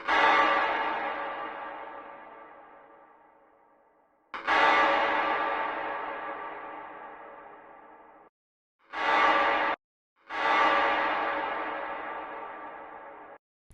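A single snare drum sample is time-stretched with heavy reverb into long, bell-like tonal hits. Four separate strikes each decay slowly, with one short clipped burst among them, and they sound processed and ringing.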